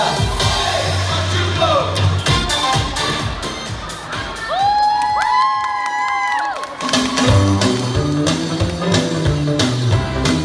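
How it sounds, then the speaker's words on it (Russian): Concert audience at FlyPark Kharkiv cheering, whooping and clapping loudly for a young singer, dense crowd noise with shouts and a brief melodic tone rising in the middle. "под ваши бурные аплодисменты"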